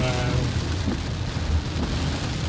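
Rain falls hard during a typhoon on Phu Quoc island, a loud continuous roar with low rumbling thunder mixed underneath.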